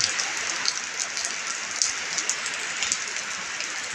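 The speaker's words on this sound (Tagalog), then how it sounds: "Maulan talaga." Heavy monsoon rain falls during a storm near Subic, a dense, continuous hiss with scattered sharper drops hitting surfaces, loud and close, with no voices.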